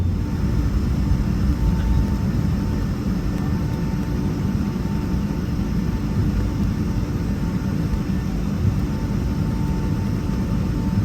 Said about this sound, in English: Our takeoff today is my first out of Boston Logan